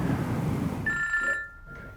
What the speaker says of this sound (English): I'm going to phone Abby